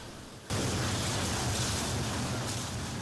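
A firefighting water curtain spray during a drill: a steady, dense hiss of spraying water starts abruptly after a brief quiet moment and continues evenly, loud and close.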